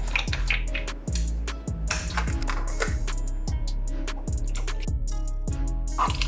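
CLR cleaner is poured into a broken steam mop, making a close, gurgling glug with repeated bubbling pulses that continue steadily throughout.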